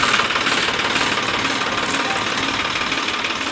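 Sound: tractor engine running

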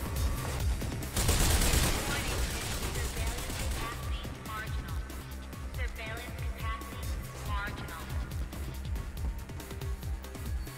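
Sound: gunfire in the video game Mirror's Edge

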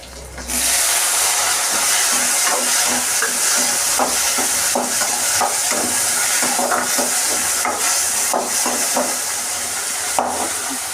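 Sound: tomatoes added and frying in fish curry

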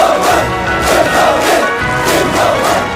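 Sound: crowd of soldiers shouting a battle cry

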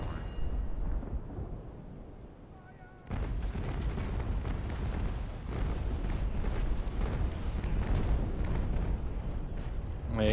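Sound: ship cannon broadside in the video game Naval Action

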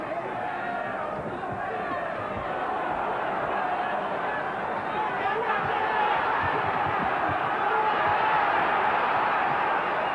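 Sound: boxing crowd cheering during fight

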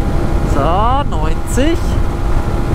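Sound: Peugeot Pulsion 125cc scooter engine accelerating uphill

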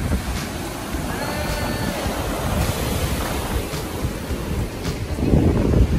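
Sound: ocean waves breaking on a beach

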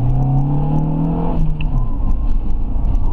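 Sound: Renault Scenic RX4 running on LPG, accelerating

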